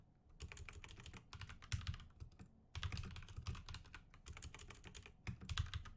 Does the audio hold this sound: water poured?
no